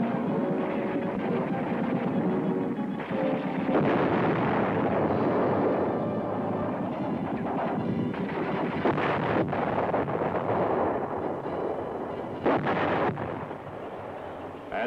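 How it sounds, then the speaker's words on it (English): Heavy tank combat fire from M60-series tanks and enemy anti-tank guns: loud, continuous booming blasts and rumbling detonations that overlap densely with no pause, carried on a constant roar. "the tanks meet heavy fire from enemy tanks and anti-tank guns"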